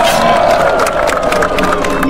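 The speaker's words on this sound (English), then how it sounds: "They cheer for you." A game crowd in BoneWorks cheers and roars, a dense, loud wash of many voices with scattered clapping throughout the whole stretch.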